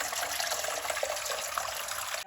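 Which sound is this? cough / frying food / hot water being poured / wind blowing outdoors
hot water being poured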